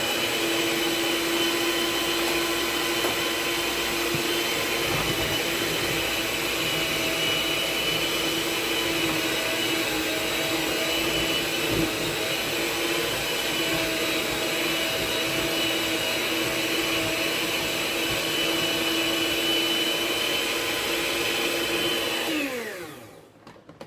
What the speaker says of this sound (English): put your mixing bowl onto your mixer. Turn it on to low speed just to mash up the bananas.